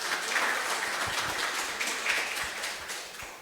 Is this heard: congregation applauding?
yes